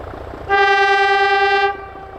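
DG 770 locomotive horn on a night passenger train departing under the home signal, one loud sustained chord-like blast of about a second, with low engine rumble before and after.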